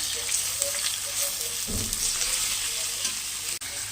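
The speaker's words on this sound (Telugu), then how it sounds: "చికెన్ పీసెస్ కూడా కొంచెం ఒక 2 మినిట్స్ వరకు ఇలా మనము ఆయిల్లో వేసి ఫ్రై చేసిన తర్వాత" Thin-cut chicken pieces fry in hot oil with a steady, close sizzle, and a utensil stirs them with a brief scraping clatter partway through.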